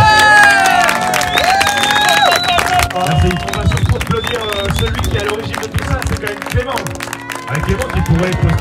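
At a Fiat Multipla car gathering and festival, an outdoor crowd claps and cheers with whoops and shouts, while people talk and call out nearby over the steady, lively noise.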